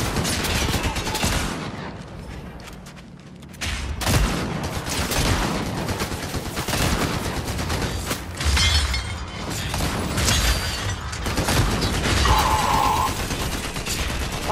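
Sustained gunfire in Fortnite, loud and continuous volleys with shattering impacts and mechanical clatter, a brief lull early on before the shooting resumes thickly, with faint voices underneath.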